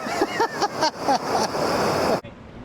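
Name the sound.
raft going over a river weir, rushing water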